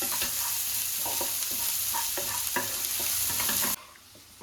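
Homemade ginger garlic paste fries in oil with a steady close sizzle and repeated stirring scrapes, then the sound abruptly drops to near quiet at the end.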